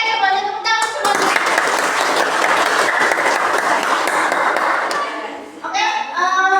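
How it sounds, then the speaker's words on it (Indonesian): A class of children applauds together, a dense burst of clapping lasting several seconds, bracketed by a voice talking just before and after. "Oke, semuanya tepuk tangan semuanya."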